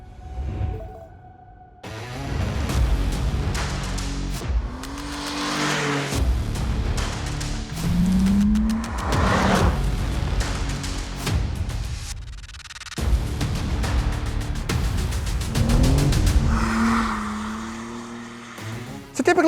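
A 2023 BMW M2 accelerates hard and loud, its engine rising through the gears in repeated surges with brief lifts between shifts, close and continuous.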